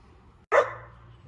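A pet dog gives a single sharp bark indoors, sudden and moderately loud, then fades against a quiet room hum.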